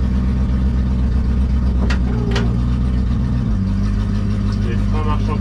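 A 1967 Ford Mustang under restoration fires up and settles into a loud, close, lumpy idle, its steady low rumble shifting pitch partway through, with someone speaking briefly over it.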